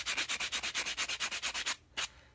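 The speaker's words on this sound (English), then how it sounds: "And I am hand filing these with 180 grit file." Nails being filed by hand with a 180 grit file, a quick, even run of about sixteen close rasping strokes, then a brief pause and one final stroke.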